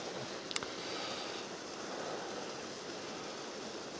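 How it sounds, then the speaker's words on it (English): A babbling brook flows with a steady, even rush of water, broad and constant throughout, with one brief sharp click near the start. "babbling brook."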